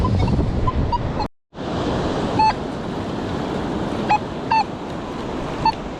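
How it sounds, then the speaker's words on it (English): Ocean waves wash in on a beach in a steady, full rush of surf with wind noise. A metal detector beeps faintly several times, and the roar cuts out briefly. "Waves came in."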